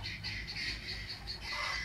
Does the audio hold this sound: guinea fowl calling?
yes